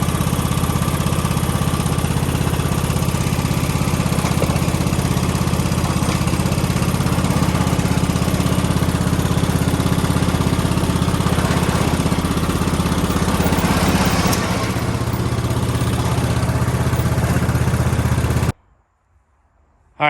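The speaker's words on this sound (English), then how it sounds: "we got the lawnmower down pretty easy" A small lawnmower engine runs loud and steady up close as the mower is driven down an arched aluminum truck ramp rated at 3000 lb and measuring 12 by 90 inches. The tone shifts slightly near the end before cutting off abruptly.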